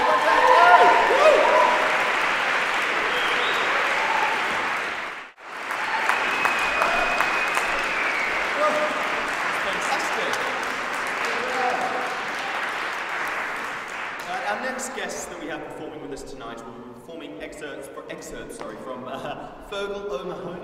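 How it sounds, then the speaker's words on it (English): Sustained audience applause for a singer named Joe, dense and even for most of the stretch, with a momentary drop before resuming and later thinning as a voice speaks over it. "So a big round of applause,"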